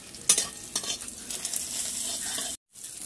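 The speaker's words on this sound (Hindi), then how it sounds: "देखिए इधर हम लोग भूंज दे रहे हैं एकदम प्याज" Onions sizzling in a hot pan as they are stirred, a steady loud frying hiss with sharp scrapes of a spoon against the pan, close up, with no talking and a brief drop to silence near the end.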